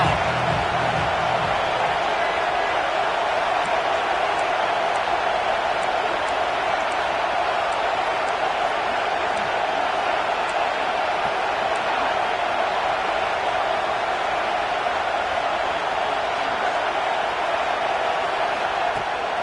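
A large Auburn football stadium crowd cheers and roars steadily on third down, a loud, continuous wall of noise with scattered whistles and whoops throughout.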